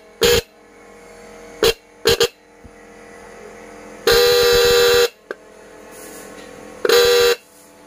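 GL100 replica car horn set, left and right, blares in several short honks and a couple of longer held blasts, loud and close, separated by brief quiet gaps.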